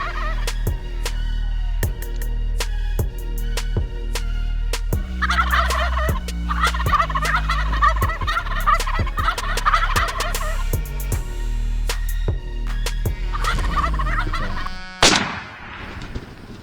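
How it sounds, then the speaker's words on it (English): Wild turkeys gobble repeatedly during a hunt, the calls loud and near, over a steady low rumble, followed by a sudden sharp burst near the end. "We had turkeys on both sides of us"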